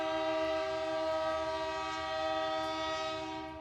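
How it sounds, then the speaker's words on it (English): A train passing through town sounds a long sustained horn blast, loud and steady, fading slightly at the end, with no talking. "Train is coming through town."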